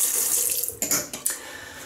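Water from a tap runs into a sink to rinse off Barbasol Original shaving cream, a hissing flow that breaks into a few sharp splashy bursts as hands pass through the stream.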